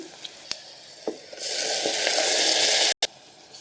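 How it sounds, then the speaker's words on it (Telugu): Tomato paste hits onions frying in a pan, a few soft clicks giving way to a loud burst of sizzling that holds steady, briefly cuts out, then resumes. "ఇలా ఉల్లిపాయలు కాస్త వేగిన తర్వాత ఇప్పుడు మనం ముందుగా మిక్సీ వేసి పెట్టుకున్న టమాటో పేస్ట్ని దీనిలోకి యాడ్ చేయాలి"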